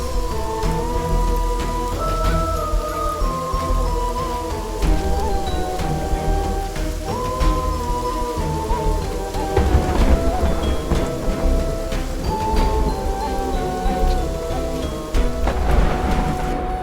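A storm brings heavy rain and thunder over a betel-leaf crop field in a dubbed South Indian action film, a loud, steady downpour running beneath swelling dramatic music.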